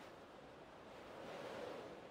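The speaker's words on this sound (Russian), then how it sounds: "Даже ветер есть." Steady rushing wind in the video game Farming Simulator 19, on a clifftop map, fills the scene, a broad airy whoosh that swells slightly toward the end, with no voices.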